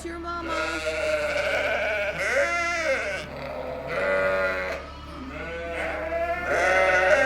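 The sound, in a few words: lost lamb bleating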